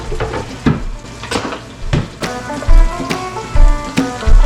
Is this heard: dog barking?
no